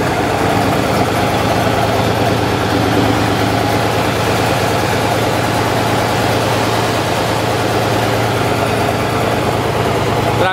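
A Kirovets K-700 tractor engine idles loudly and close by inside an assembly workshop, a steady heavy rumbling drone with a constant low hum throughout and no talk.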